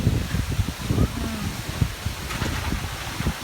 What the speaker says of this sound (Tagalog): Ang hangin guys, tanawa.